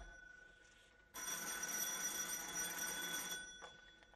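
A telephone rings on stage during a French theatre play, one long loud electric bell ring of about two seconds that then cuts off, heard alone in a quiet room.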